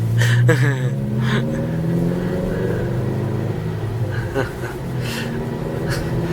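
A loud Subaru WRX driving just ahead on the road, its engine a steady low drone with gentle surges, heard from inside a following car while people talk.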